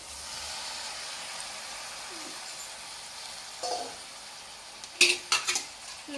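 Marinated mutton being stirred in a pot for Andhra-style cashew mutton curry, faint sizzling at first, then a few sharp metallic scrapes and clanks of the spoon near the end, no talking.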